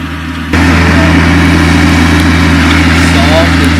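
A farm tractor engine starts up and runs at a steady idle nearby, a loud, constant low drone with a fixed hum that begins abruptly after a brief quiet moment and continues without change.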